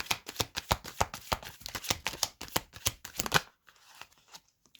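Tarot deck being shuffled by hand, a rapid series of crisp, close card slaps and riffles for about three and a half seconds, then a soft brief rustle as a card is drawn, with no speech.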